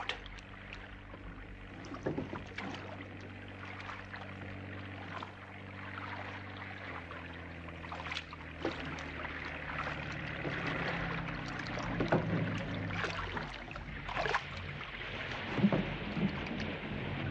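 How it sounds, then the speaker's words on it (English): A patrol boat engine drones low and steady on the water, with splashing and rain-like patter over it, no voices. "It's a patrol boat."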